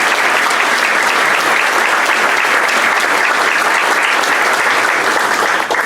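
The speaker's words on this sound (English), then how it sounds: "Let's give Greg a round of applause." A Rotary club meeting audience gives a guest speaker a loud, sustained round of applause, many hands clapping evenly with no letup.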